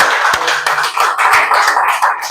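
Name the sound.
welcome applause from the congregation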